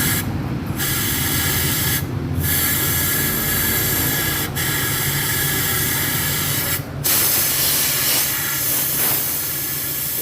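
Aerosol spray hissing continuously onto the engine of a Honda Tiger motorcycle, loud and close, broken by a few brief pauses between long sprays, with no talking.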